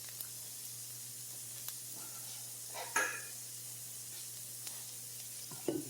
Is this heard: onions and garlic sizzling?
yes